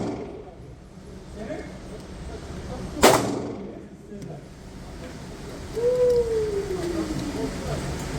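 An AR-15 short barrel rifle, firing .223 rounds while prone to jamming, lets off a single sharp, loud shot near the middle, with quiet outdoor ambience on either side and a faint whistling tone afterward.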